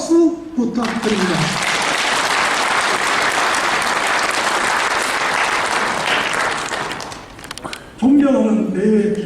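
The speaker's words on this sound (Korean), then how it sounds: "여러분 큰 박수 부탁드립니다" Loud, sustained applause from an audience at a New Year greeting gathering in Gyeongju, a dense steady clatter of clapping lasting several seconds, with a speaker's voice heard briefly before and after it.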